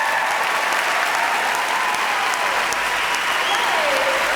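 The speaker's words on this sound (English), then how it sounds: "please put your hands together. Massive round of applause for Nadiya" An audience applauds Nadiya Hussain, the Great British Bake Off winner, with dense, steady clapping that fills the room at full volume for the whole stretch.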